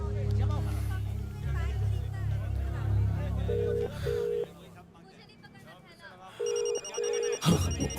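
A telephone rings with a repeating electronic trill, pausing and returning, over low rumbling background noise and some speech.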